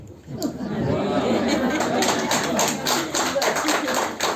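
An audience at a talk bursts into sustained applause, dense clapping from many hands holding steady for several seconds amid some crowd murmur.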